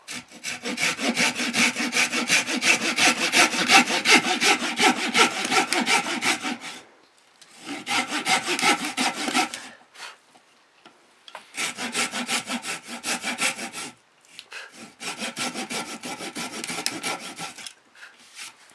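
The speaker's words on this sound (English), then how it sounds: "I'm going to use my hand saw. professional handsaw, the Fiskars." Fiskars professional hand saw cutting through wood: long runs of steady, rhythmic rasping strokes in four bursts separated by short pauses, close and loud, with no talking.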